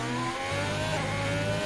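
The Ferrari race car in a racing video game accelerates hard, its engine note climbing steadily and loud, heard close from on board with no talk over it.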